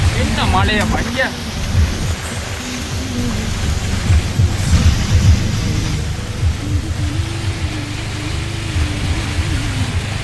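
Heavy rain pours steadily in Jaffna with rumbling thunder rolling underneath, a dense roar throughout, while people talk over it.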